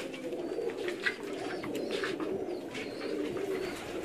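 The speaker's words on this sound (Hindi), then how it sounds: "उनके ये जोड़े वाले कबूतर" Paired pigeons at a home loft setting coo softly and repeatedly, low throaty calls rolling on continuously, with a few faint chirps above.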